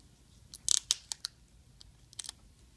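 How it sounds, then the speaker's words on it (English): A sticker is peeled up from a ribbon connector inside an HP Compaq Pavilion 15 laptop, making a few faint, close crackly ticks and peeling snaps, a cluster early on and a second cluster near the end. "Just peel up the sticker."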